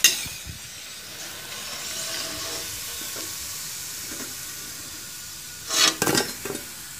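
Mini samosas deep-frying in cooking oil give a soft, steady sizzle and hiss throughout, with a brief louder crackling burst near the end.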